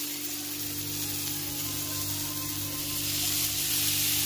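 Marinated meat skewers sizzle in a lightly oiled pan, a steady, moderate frying hiss that continues without pause and grows slightly louder toward the end.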